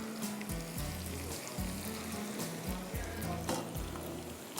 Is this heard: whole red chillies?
yes